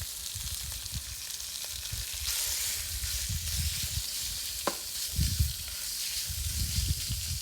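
Minced pork stir-frying in a pan with shrimp paste and curry paste gives a steady, close sizzle, with repeated scraping and stirring strokes and a few louder bursts of frying.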